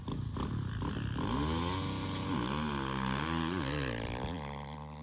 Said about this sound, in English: we can hear the motor